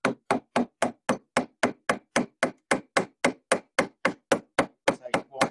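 A mallet strikes chisels carving wood in a quick, even series of about seventeen sharp, close knocks, roughly three each second, with no other sound between them.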